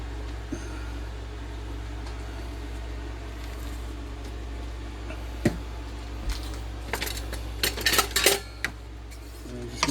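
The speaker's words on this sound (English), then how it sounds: "Give this a little bit of a stir." Seasoning being stirred into beef stew in a pot for canning, with a low steady hum throughout and clinks and scrapes of a utensil against the pot that grow busier toward the end.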